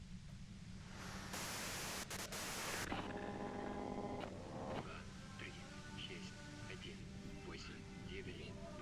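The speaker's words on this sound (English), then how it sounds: "If you've got something really important to say, you can do it through the white noise." Radio static in the video game Disco Elysium, a broad hiss that surges loud for a couple of seconds, then settles beneath a voice and faint tonal game music.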